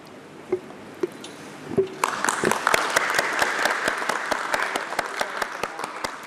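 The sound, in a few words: audience applause at listing ceremony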